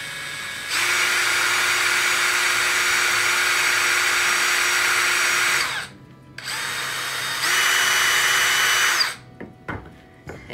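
A power drill bores a hole through a board, a loud whining motor held for several seconds, a brief stop, then a second long burst before it winds down with a few clunks.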